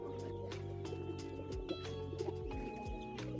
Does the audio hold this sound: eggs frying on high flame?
no